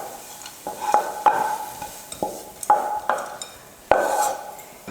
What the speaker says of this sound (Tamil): வெங்காயத்தை போட்டுட்டு கலந்து விட்டுறலாம்.